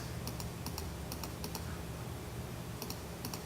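Computer mouse clicked repeatedly with the dodge tool in photo-editing software, quick doubled and single clicks coming in irregular bursts, close and crisp over a faint steady hum, with no talk.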